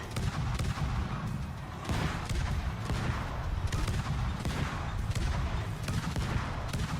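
Ship guns fire in a naval video game featuring the Japanese destroyer Kitakaze, a rapid series of sharp booming shots over a constant low rumble, volleys repeating every second or so at steady loudness.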